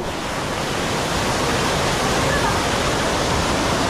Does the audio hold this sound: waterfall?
yes